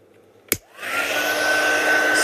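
A craft heat tool warms ultra-thick embossing powder from underneath. A sharp click switches it on, then a loud, steady, close-up blowing whir builds and holds to the end.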